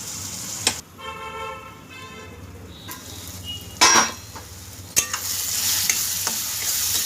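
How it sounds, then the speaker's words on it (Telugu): Ginger-garlic paste fries with onions in a pan for a mutton keema and sorrel curry, with a steady close sizzle broken by sharp spatula scrapes and clanks, plus a brief tonal honk-like whine early on. "అల్లం వెల్లుల్లి పేస్ట్ పచ్చివాసన పోయేదాకా వేగించుకుందాం"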